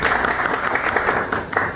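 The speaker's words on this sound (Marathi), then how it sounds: "त्यांची सगळ्यांनी टाळ्या वाजवून एकदा स्वागत करावं।" A crowd claps for an arriving guest, the Tumsar taluka tehsildar, at a journalists' welfare association's Journalists' Day gathering, giving a dense, steady patter of hands for under two seconds with a couple of louder swells.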